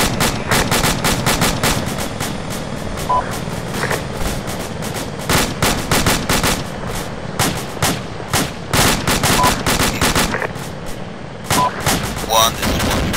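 Gunfire in the military video game Arma 2 rings out in repeated sharp bursts and single shots, loud and close, continuing throughout with brief gaps and a faint voice underneath.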